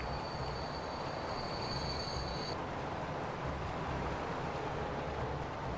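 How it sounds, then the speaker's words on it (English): Trains rolling into a station in the video game Transport Fever, a steady loud rumble of rail cars with a high wheel squeal over the first half, then continuous running noise with no talk. "we've got freaking millions of trains coming in"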